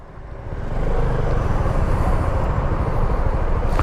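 Yamaha Xmax 250 scooter, a 2019 model, running at steady road speed while being ridden, its engine drone blended with strong wind rush that builds in the first second and then holds loud and constant with no talking.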